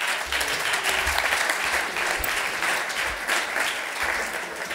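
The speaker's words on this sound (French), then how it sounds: "Vous pouvez l'applaudir." Steady applause from an audience at an academic doctoral ceremony, a dense continuous patter of clapping that holds at even loudness for several seconds with no voices over it.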